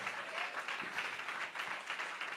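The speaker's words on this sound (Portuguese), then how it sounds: "Pode aplaudir o Senhor Jesus, não hesite." Faint, distant applause from a crowd in a dense, continuous patter with no individual claps standing out, heard during a sermon at a military officers' course graduation ceremony.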